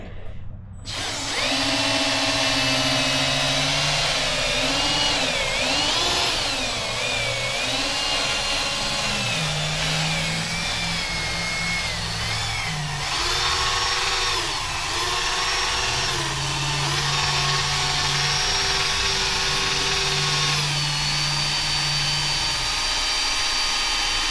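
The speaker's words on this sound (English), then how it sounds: "Anybody else get nervous when you start using power tools by your car?" A power tool whirs loudly and steadily at close range while polishing a Cadillac CTS-V headlight with a 3M restoration kit, its pitch rising and dipping as it works, with no talking.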